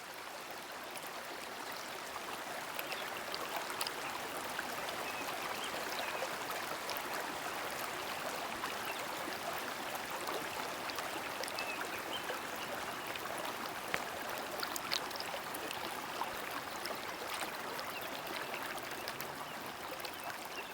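Steady river water babbling and tumbling over small stones and rocks, a continuous close rushing wash with bright bubbling detail throughout, no voices.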